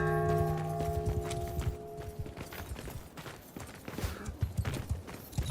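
Horse hooves clip-clop steadily in a video game, a rhythmic run of close, fairly loud hoofbeats over a busy backdrop with a faint held musical tone at the start.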